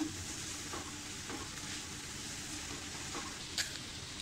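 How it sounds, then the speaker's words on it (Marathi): Dry prawns, sukha jawla, sautéed in a pan for a Malvani dish: a steady, soft sizzle runs throughout at low level, with a few faint stirring scrapes and one brief sharper clink near the end. "हे सुद्धा आपण असं छान परतून घेऊया."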